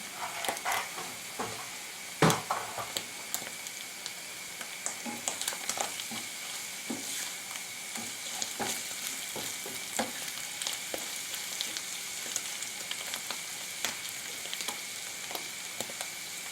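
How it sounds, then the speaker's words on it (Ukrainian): Steady sizzling and crackling of purple blewit mushrooms frying in a pan, with occasional scraping clicks from stirring, close up and continuous. "смажимо рядовку і час від часу перемішуємо"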